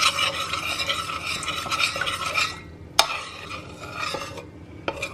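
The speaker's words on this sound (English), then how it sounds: "we've added in the chocolate and we'll just mix it through" Chocolate stirred into melted butter in a saucepan with a spoon, a steady close scraping and swirling with a couple of sharp clinks of utensil against the pan, no talking.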